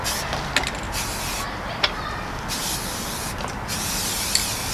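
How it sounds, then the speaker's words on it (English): Aerosol spray can coating a homemade wooden deer feeder outdoors in a steady continuous hiss, with a few brief pauses between passes and faint clicks. "So I'll continue spray painting."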